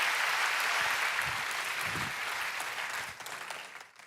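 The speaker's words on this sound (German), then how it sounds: "Applaus für Rebecca." An audience in a church service applauds for Rebecca, a sustained, dense clapping that fills the room and fades toward the end.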